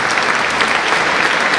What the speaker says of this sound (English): Big applause for our